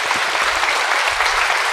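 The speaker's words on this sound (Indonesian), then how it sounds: "Tepuk tangan." Audience applause at a church recollection gathering, a dense steady clapping from a crowd that runs the whole length at an even, fairly loud level with no talking over it.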